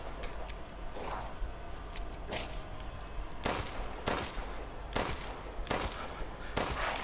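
Gunfire in the video game Resident Evil Village comes as several sharp, loud bursts spaced a second or so apart over steady background game ambience, with no talk.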